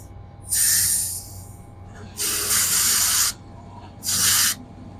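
Refrigerant gas hissing out of the pipe line of an LG split air conditioner, three loud, steady bursts of spray-like hiss separated by short pauses over a low background hum.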